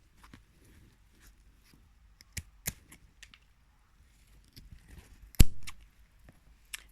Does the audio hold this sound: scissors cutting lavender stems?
yes